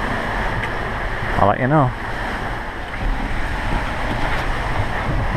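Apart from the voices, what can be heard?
rough waves and wind around a sailing boat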